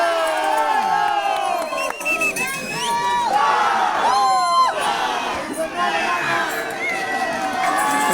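Festival crowd at the Huachocolpa vispera cheering, whooping and shouting continuously, loud and close, with bursts of applause-like noise and a voice calling over the din.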